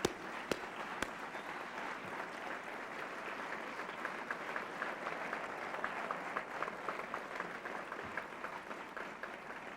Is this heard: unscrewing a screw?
no